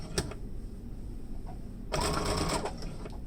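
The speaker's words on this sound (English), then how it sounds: "Put your needle down, your presser foot down, and then you're going to sew diagonally." A sewing machine stitches bias tape fabric diagonally. It runs in a short burst near the start, then in a longer, louder whirring run later, close and alone.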